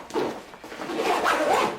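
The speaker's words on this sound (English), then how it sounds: "if you zip it back up and you go to the second compartment" A compartment zipper on a Deuter Futura 25 SL daypack is drawn closed in one continuous, close-up raspy pull lasting about two seconds, with no talking.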